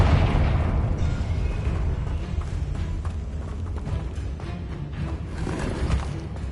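Confringo explosive spell blast in Hogwarts Legacy, a dense, loud, rumbling roar of explosive energy that fills the whole stretch without letting up, no voices over it.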